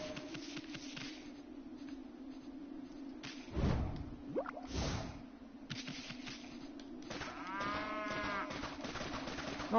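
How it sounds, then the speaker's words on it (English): Cattle mooing in the video game Okami HD, several drawn-out low moos rising over a soft ambient game background, with a whooshing sweep and faint musical tones near the end. "I hear a cow."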